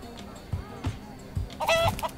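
Chicken clucking in the video game Minecraft Story Mode, a short burst of bright clucks near the end over low thumping game sounds, fairly quiet and brief.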